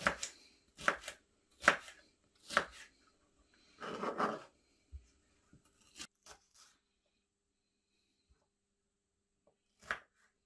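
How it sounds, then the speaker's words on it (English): Knife chopping washed produce on a board: several crisp, separate close cuts in an irregular rhythm with pauses between, fairly quiet, no talking. "we'll just chop them up into smaller pieces"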